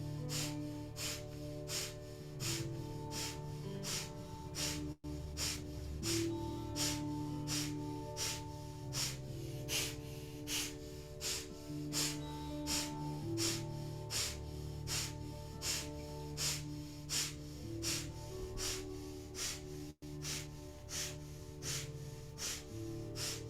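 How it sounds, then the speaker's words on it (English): Rapid, forceful rhythmic breathing of Kundalini yoga breath of fire, quick sharp exhalations pulsing evenly for over twenty seconds, close and steady, with faint low background tones underneath. "Just continuing breath of fire."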